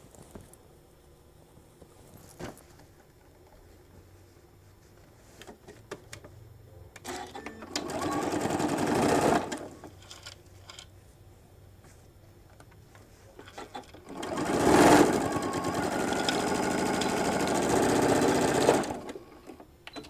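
Sewing machine stitching the seams of a shoulder bag, heard in two sustained runs of quick rhythmic whirring separated by quieter pauses with small handling clicks.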